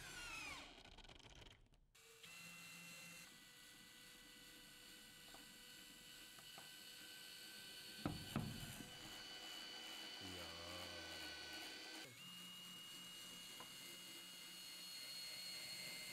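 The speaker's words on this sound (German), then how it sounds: "Und jetzt schrauben wir es auch fest." A screw is driven into a wooden wall stud to mount a fastening, a close mechanical whir and grind with a louder burst of driving partway through and steady workshop noise around it.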